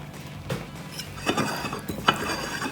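Cold pasta salad with chicken pasta being mixed in a bowl, giving soft stirring scrapes and a few light clinks of utensil against the dish, close and fairly quiet.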